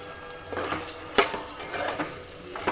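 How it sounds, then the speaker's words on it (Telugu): Tomato chicken curry with garam masala being stirred in a pan, a close scrape-and-clink of the spoon against the metal in a few uneven strokes over a faint sizzle. "కొంచెం గరం మసాలా వేసుకొని అంతా కలుపుకున్నాం"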